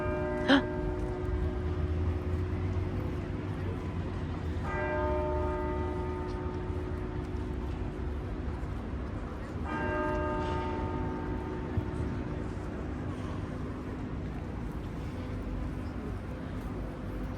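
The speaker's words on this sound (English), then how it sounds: "those are the bells in the roof of the church" Distant bells in the roof of Notre-Dame de Paris cathedral ring out in a few sustained, tonal strikes spaced several seconds apart over a low, steady background hum.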